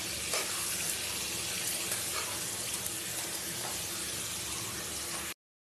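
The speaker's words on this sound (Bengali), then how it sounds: "আর একটু ভাজা করে নেবো, দিয়ে আমি মশলাটা দিয়ে দেবো।" Potatoes, ridge gourd and pointed gourd frying in oil for a rohu fish curry give a steady, dense hiss that carries on evenly for about five seconds, close by, with no voices.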